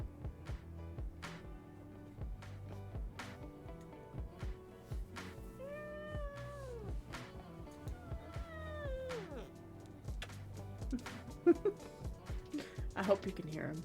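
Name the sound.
cat meowing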